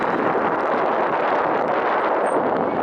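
Steady wind blows hard into the microphone, a constant loud rushing roar with no pauses or voices.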